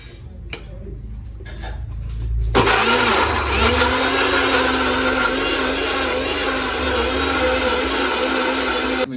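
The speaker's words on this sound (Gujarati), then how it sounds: "હુકી ડુંગળી પાસે મિક્સરમાં કાઢી પડશે" A mixer grinder kicks on after a short quiet stretch and runs loud and steady grinding onions, a whirring motor whine that holds through to the end.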